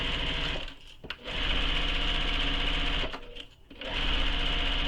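A sewing machine basting a backpack seam hums in loud, steady runs, pausing twice briefly before starting again close by.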